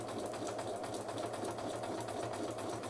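A sewing machine stitching slowly and steadily under careful foot-pedal control, a continuous close mechanical whir with a fast even needle rhythm and no talking.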